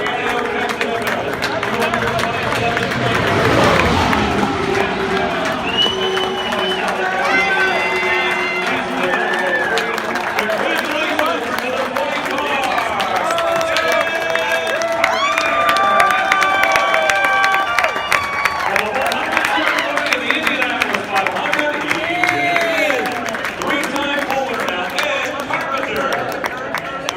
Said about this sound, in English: Cheer for Elio Castroneves.